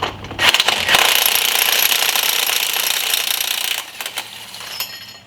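An impact gun loosens a seized hub bearing bolt on a 2003–2009 Dodge Ram, giving a loud, close, rapid hammering rattle that runs for several seconds and then tapers off into a few shorter bursts.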